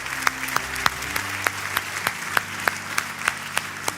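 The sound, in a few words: congregation applause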